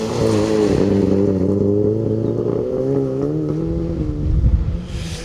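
A rally car engine stuck in gear runs roughly at a steady, strained drone with wavering pitch, loud and close, then dips and sputters toward the end.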